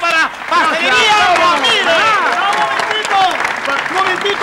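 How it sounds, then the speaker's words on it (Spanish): At a street comedy show, a crowd applauds a bakery while voices shout and cheer loudly over the clapping throughout the short burst. "¡Aplauso para Pastelería"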